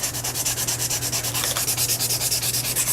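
Steady, rhythmic rubbing across a book page, wearing away its top printed layer for a junk journal; a continuous scratchy sanding texture with regular strokes, close and unbroken, with no voices.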